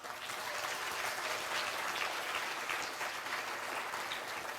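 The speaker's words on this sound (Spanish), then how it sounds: "Demos un fuerte aplauso para Dios." Steady applause from an audience at a cultural talk and exhibition in Alausí, dense clapping held at an even level throughout with no voices over it.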